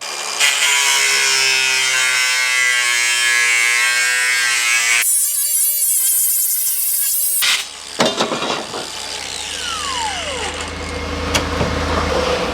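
Metal-cutting tool slicing a sheet metal floor patch for a Geo Tracker, a loud continuous whine that shifts pitch partway through, followed by scraping and rattling of the metal piece.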